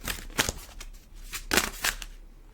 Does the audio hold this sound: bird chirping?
no